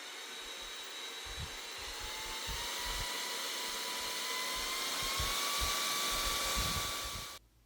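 A JisuLife Fan Pro 1s mini fan runs with a steady high-pitched whirring hum, and its motor tone climbs gradually before it cuts off abruptly near the end. Faint low thumps sit beneath the whir.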